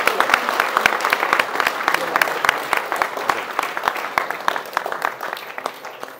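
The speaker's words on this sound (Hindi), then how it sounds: "दिल से तालियां बजाएं ताकि पता चले।" A hall audience claps together, a dense, loud and sustained ovation of many hands with sharp individual claps standing out throughout, gradually thinning slightly toward the end.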